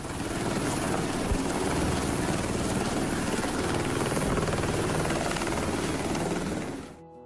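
A helicopter's rotor thumps loud and steady for several seconds before cutting off abruptly at the end.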